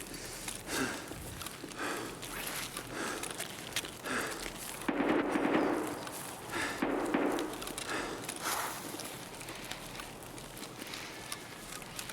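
Gunshots in the video game Escape from Tarkov sound as a cluster of muffled, thumping reports over a busy, noisy background, with the loudest bursts grouped in the middle.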